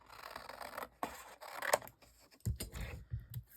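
Scissors cutting through a paper cover while crafting, a few close crisp snips and rustling paper handling in a quiet room.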